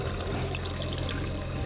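Tap water pours steadily from the faucet into a goldfish tank during refilling, a continuous close splashing rush with a low gurgle and no pauses.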